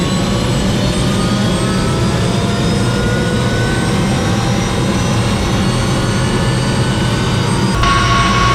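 A helicopter turbine engine runs steadily at high power, a loud continuous whine and roar with no pauses, close by.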